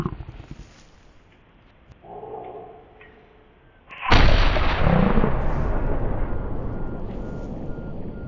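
A single loud hunting-rifle shot in The Hunter cracks out midway, followed by a long rolling echo that fades slowly across an open landscape.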